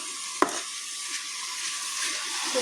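Mushrooms fry in oil in a pan as their water cooks off, a steady close sizzle and crackle with one sharp tap near the start and no voices.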